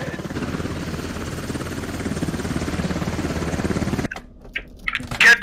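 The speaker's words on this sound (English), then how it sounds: "Get to the chopper!" Helicopter in the military video game Squad, a loud steady rotor chop for about four seconds, then it cuts away to quieter game sounds.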